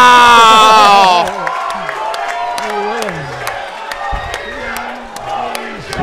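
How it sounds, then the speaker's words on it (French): A crowd at a six-man tag team wrestling match, loud cheering and shouting that swells for the first second and then fades to a lower murmur under excited commentary. "La foule a adoré le move de Will Wexler."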